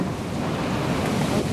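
Steady roar of ocean surf mixed with gusty wind buffeting the microphone, continuous and close, just beyond Oceanside Beach, Oregon.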